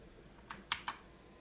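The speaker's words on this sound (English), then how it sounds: "I hear you typing." Three quick, faint clicks of keys on a computer keyboard, spaced unevenly over a quiet room-tone background.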